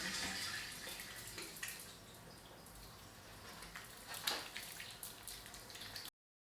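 Water splashing and trickling at a sink as oil-based makeup remover is rinsed from the face, soft close splashes and drips with brief louder bursts.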